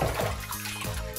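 Water splashing and running as a Shark Stratos Pet Pro vacuum's sponge filter is rinsed under a tap, a close, continuous gurgling wash with shifting splashes.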